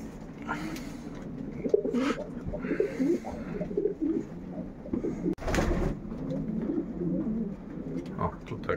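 A male pigeon of the Schellens line sitting in a breeding cell, cooing repeatedly to call a female, with soft, throaty rolling coos close by amid other pigeons in a loft, and someone talking quietly in places.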